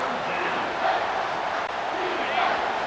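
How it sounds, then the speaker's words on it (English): Stadium crowd noise in NCAA 25 college football game, Texas versus Michigan, swelling as a steady broad roar with no clear peaks, carrying on throughout at a moderate level. "This crowd rising up, sensing that its defense needs some help."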